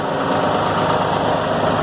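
A tractor engine running just after starting, a steady loud idle with an even rumbling drone and a faint high whine, continuous and close for the whole short stretch.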